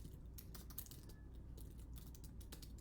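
Rapid clicks of typing on a computer keyboard, quiet and close, in uneven bursts with short pauses and no talking.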